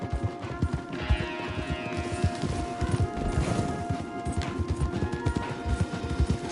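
Horses' hooves clip-clop continuously in Red Dead Redemption 2, several animals trotting together in a dense, rapid rhythm, with some mechanical rattling and faint background sounds.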